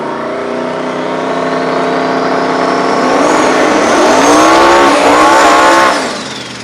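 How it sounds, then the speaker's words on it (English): A drag racing car doing a burnout in the right-hand lane of a small-tire race, its engine roaring louder as it revs up and tires squealing in a rising pitch, then dropping off near the end. "Trigolette with his burnout in the right-hand lane"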